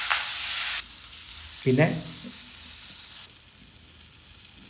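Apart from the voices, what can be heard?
spices with coriander powder sizzling and being stirred in pan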